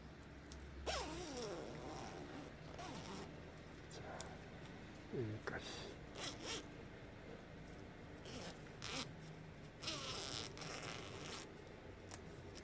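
A zipper on Norrona outdoor pants converted from a half zip to a full zip, pulled open in several short zipping strokes, with a person talking throughout.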